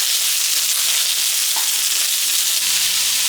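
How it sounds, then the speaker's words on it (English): Cucumbers stir-fry with eggs in hot olive oil, giving a loud, steady hiss and crackle of sizzling fat that runs without a break, with a faint clink partway through. "Give the cucumbers a quick stir fry"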